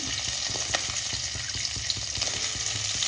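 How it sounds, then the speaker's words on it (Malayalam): Coarsely cut onions frying in a little oil in a pan make a steady, close sizzle with a faint rhythmic scrape of stirring running through it, and no voices. "ഉള്ളി കുറച്ച് വലുപ്പത്തിൽ വലുതാക്കിയിട്ട് കട്ട് ചെയ്തിട്ട് കുറച്ച് എണ്ണ ഒഴിച്ച് ചട്ടിയിലേക്ക് ഇട്ട് കൊടുത്തിട്ടുണ്ട്"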